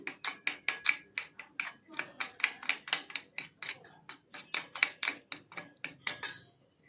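A spoon stirs red chili powder into peanut oil in a bowl, making a fast, regular series of close metallic clinks and scrapes, roughly three per second, with no talk.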